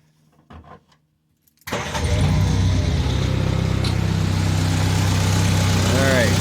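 A Jeep CJ5 engine on choke cranks briefly after near silence, then catches at once and settles into a loud, steady rumbling idle close by.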